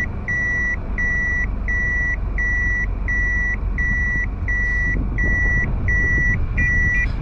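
Corner sensor on a Toyota HiAce beeps while the van reverses toward an obstacle: a regular series of about ten evenly spaced electronic tones, loud and close, over a low engine rumble.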